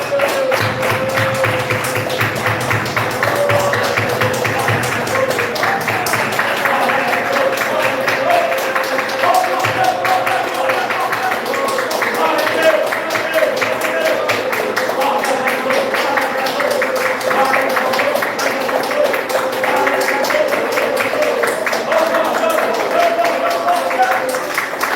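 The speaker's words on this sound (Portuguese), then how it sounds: "vamos pegar a empreitada de bater palmas e dar glória a Deus" A church congregation claps hands in a steady, even rhythm throughout, the loud repeated claps sitting under voices that sing or speak along for the whole long stretch.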